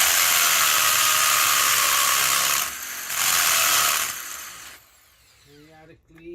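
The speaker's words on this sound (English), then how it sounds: "I drilled the hole with a 1/4 inch concrete bit, and then I made the hole bigger with the 1/2 inch concrete bit" A concrete bit bores into a boulder with a loud, continuous high-pitched drilling whine. The whine stops briefly, starts again, then winds down to quieter mechanical rattles.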